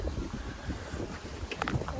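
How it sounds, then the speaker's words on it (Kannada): Strong wind buffets the microphone in heavy, gusty rumbles, with a few brief higher rustles near the end; no voices. "ನಮ್ಮ ಮನೆ ಕಡೆ ಫುಲ್ಲು ಗಾಳಿ ಬಿಟ್ಟಿದೆ ನೋಡಿ"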